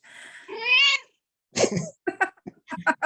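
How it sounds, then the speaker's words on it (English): A house cat meows up close: one long, rising, tonal meow, then a pause and a run of shorter, choppy chirping vocal bursts, loud and clear with no talk over them. "That cat likes the statement."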